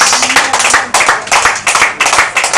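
A church congregation claps together in loud, close bursts that swell and fade in a rough repeating rhythm, many hands striking at once with no voices on top.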